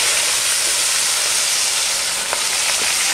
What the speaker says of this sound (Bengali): ফোড়নটা আমার রেডি হয়ে গেছে, এবার দেবো আমি পেঁয়াজ কুচি আর কাঁচা লঙ্কা।